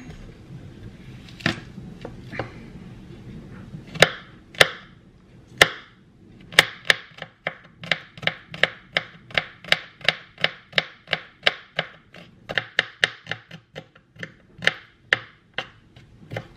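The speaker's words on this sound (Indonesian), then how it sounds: "Terus bawang putihnya juga kita geprek aja." Garlic cloves are smashed and chopped on a board, starting with a few scattered heavy strikes, then settling into a run of close, crisp knife chops in a fairly even rhythm, with short pauses between bursts.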